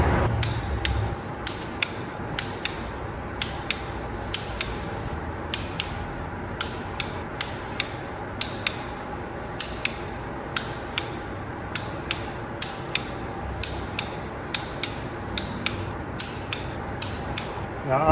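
A torque wrench tightens bolts on a Duramax diesel engine to final torque, giving a run of sharp, evenly spaced clicks and creaks at close range over nearly twenty seconds with no talking.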